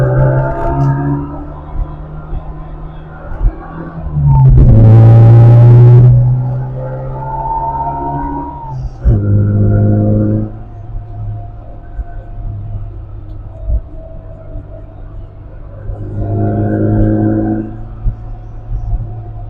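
A tiny JDM Mini car driving on a winding road, its small engine droning steadily with a low hum, rising into a loud revving surge midway, then settling back into an even cruise with a few more pulls.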